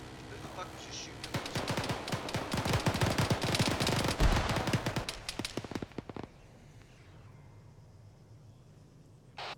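Automatic weapon fire during a military field training exercise: dense, rapid bursts of shots overlap loudly for several seconds, then thin into scattered single cracks before falling quiet, with a voice shouting partway through.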